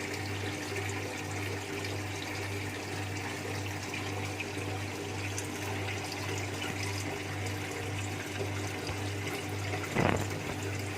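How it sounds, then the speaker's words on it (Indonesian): Water pours steadily into an arowana aquarium, a constant wash over a low steady hum, with one brief splash or knock near the end. "setelah itu barulah kita mengisi airnya"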